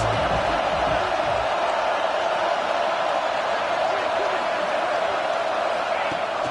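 A football stadium crowd roaring loud and steady during a fourth-down play, a dense wash of cheering and noise that continues unbroken for the whole stretch.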